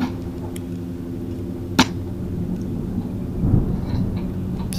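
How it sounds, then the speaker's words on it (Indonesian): Low thunder rumbles through steady heavy rain outdoors during an airsoft skirmish, with a sharp crack near the start and a swelling roll later, continuous and fairly loud. "Terdengar suara geluduk."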